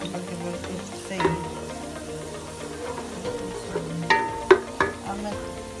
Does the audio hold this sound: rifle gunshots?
no